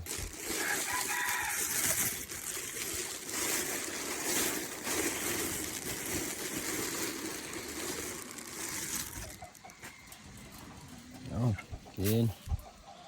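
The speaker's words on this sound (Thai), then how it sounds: "อันนี้ไก่ป่ายังบ่ได้ไข่เถอะ" A jungle fowl rooster crows in a rural farm setting, with a couple of short, strained crowing calls near the end, heard over a noisy background of low rumble and hiss.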